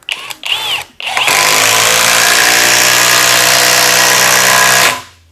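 A Worcraft CIS-S20LiB cordless impact wrench runs at its low speed setting, with a few short bursts followed by one long, steady, loud whir of roughly four seconds that winds down abruptly.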